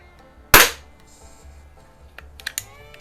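A Webley Nemesis single-stroke pneumatic .177 target pistol fires one sharp, loud, close shot, followed by a few faint clicks and handling taps.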